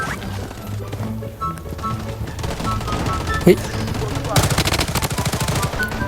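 Rapid automatic gunfire in the Bloodstrike shooter game, bursts of sharp repeated shots with a loud clattering stretch near the end, over game ambience and chatter.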